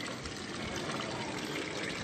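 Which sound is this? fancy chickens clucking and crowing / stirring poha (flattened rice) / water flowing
water flowing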